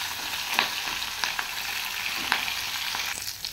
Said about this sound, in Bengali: মাছের মাথাটাকে ভালো করে ভেঙে নিয়েছি, তাহলে ভাজাটা ভালো হবে